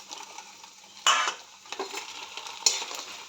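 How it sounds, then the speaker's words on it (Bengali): Bori lentil dumplings fry in oil in a pan with a soft, faint sizzle, broken by a couple of sharp utensil clanks against the pan. "আমি প্রথমে বড়িটা ভেজে নেব।"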